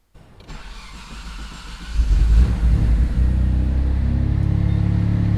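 A Mitsubishi 3000GT with a 6G72 engine on an AEM Series 2 tune cranks and catches on a warm start, a brief throttle blip lifting the revs before it settles into a steady, loud idle.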